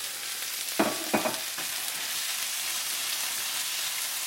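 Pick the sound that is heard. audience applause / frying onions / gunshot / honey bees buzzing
frying onions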